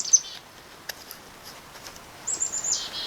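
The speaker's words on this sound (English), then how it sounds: "There are a bunch of chickadees who want to make friends with me." Chickadees call in the woods with a couple of short, thin, high chirps, one near the start and a brief run later on, faint against a quiet outdoor background.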